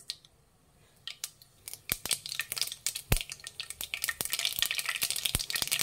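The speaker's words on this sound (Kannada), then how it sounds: "ಎಣ್ಣೆ ಬಿಸಿಯಾಗಿದೆ, ಸಾಸಿವೆ ಹಾಕ್ಕೊತಾ ಇದ್ದೀನಿ." Mustard seeds splutter and pop in hot oil in a pan while cooking lemon avalakki, sharp scattered crackles that start sparse and quicken into a dense, steady popping, close and fairly quiet.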